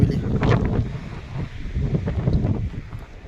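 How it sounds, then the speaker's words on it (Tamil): Strong wind buffets the microphone on Yercaud hill near the Servarayan temple, a continuous low rumbling roar with gusty swells throughout. "சரியான காத்துங்க."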